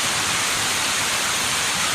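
Small twin waterfalls pour into a natural bathing pool at Tepleheng, a steady broadband rush of falling water, close and loud, with no voices.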